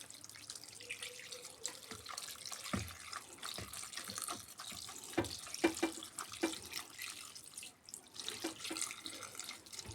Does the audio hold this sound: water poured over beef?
yes